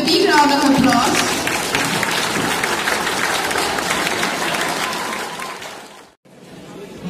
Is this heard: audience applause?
yes